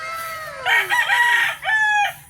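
Chickens and a rooster in a small coop, a rooster crowing nearby with a drawn-out rising and falling call in two bursts over faint clucking, no talking.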